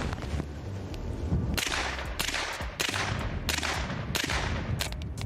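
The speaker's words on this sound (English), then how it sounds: "Hey, that was five shots." Five sharp gunshots crack out at a shooting range, loud and close, spaced in a steady cadence after a brief lead-in, each with a quick echoing tail.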